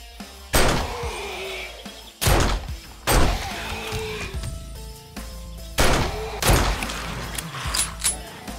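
Loud gunshots ring out in the 7 Days to Die video game, several sharp blasts in irregular bursts with echoing tails and game sounds between them, and no voices.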